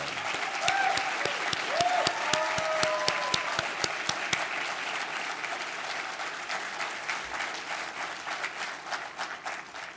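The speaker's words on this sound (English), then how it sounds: "So let's give them a round of applause." An audience at the Cast in Steel 2025 awards livestream breaks into sustained applause, dense clapping strongest at first and gradually thinning out over about ten seconds, with faint crowd murmur underneath.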